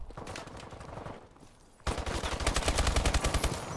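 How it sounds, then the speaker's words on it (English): Burst-fire gun from a first-person shooter video game, a burst weapon rattling off rapid shots that grow louder and denser partway through, near and sharp with no voices. "I think this is a 3-round burst."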